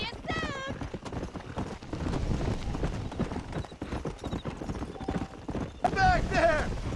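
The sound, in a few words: horse galloping in Red Dead Redemption video game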